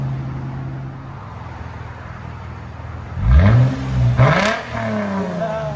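Lexus IS 250 2.5-litre engine with an aftermarket valved exhaust, valves open: steady idle, then two sharp revs rising and falling over a couple of seconds, loud and close, settling back to idle.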